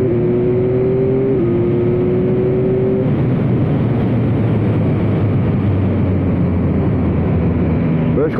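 A 2021 Yamaha MT-09 three-cylinder roadster motorcycle engine hums steadily while riding, a loud continuous drone with wind rush and shifting pitch, someone talking over it.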